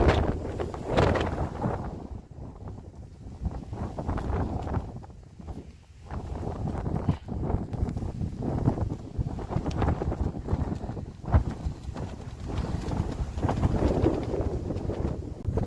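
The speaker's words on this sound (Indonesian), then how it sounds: "Nggak dikasih ampun sama angin nih." Relentless gale-force wind roars across Mount Guntur during a mountain climb, a loud continuous buffeting that surges and dips without letup, with no talking.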